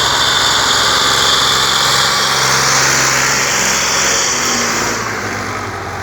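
A Ford 4560 tractor runs steadily in first gear while towing a field leveller, its engine giving a constant drone with a broad hiss that eases slightly toward the end. The sound is near and continuous, and nobody speaks.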